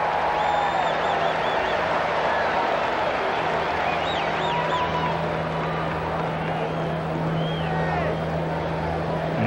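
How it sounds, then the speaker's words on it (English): Baseball stadium crowd at a Reds vs Braves game lets out a sustained, derisive cheer, a loud, dense roar of many voices that holds steady throughout, with scattered whistles riding on top. "A somewhat derisive cheer from the crowd."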